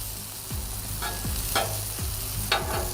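Onions sauté on a cooktop while being prepared for pizza night, a steady sizzle broken by several scraping stirs of a utensil across the pan, close and fairly loud, with no talking.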